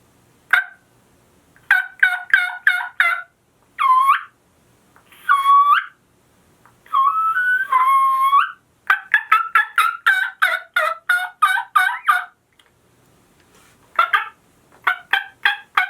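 A Phelps MeatEater turkey game call imitating a wild turkey, sounding loud, sharp clucks in quick bursts with a few longer yelping and gobbling runs, close and clear against silence, with no talk.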